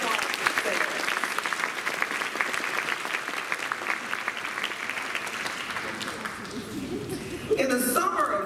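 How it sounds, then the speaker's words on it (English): Sustained applause from a convocation audience fills the hall, dense steady clapping that swells and then tapers, with a brief louder burst near the end. "Applause."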